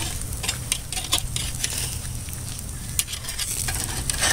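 Turkey and beef stuffed burgers sizzle on a hot surface, a dense continuous frying hiss with scattered crackles and a few sharp clicks as a patty is flipped.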